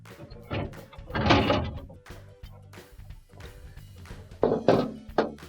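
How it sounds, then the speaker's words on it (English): Drawers slide out of a Maytag refrigerator, with several plastic scrapes and clunks close by, bunched into two busier bursts with quieter handling sounds between them. "I'm going to take drawers out, and those just slide straight out"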